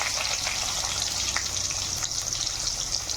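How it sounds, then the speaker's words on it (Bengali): Chopped onions fry in hot oil in a kadai, giving a steady, loud, continuous hiss and sizzle that holds without a break for the whole stretch. "পেঁয়াজটা লাল করে নেবো"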